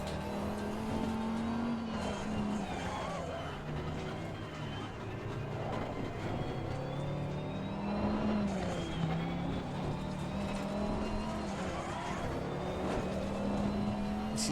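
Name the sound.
race car driving in Assetto Corsa Competizione video game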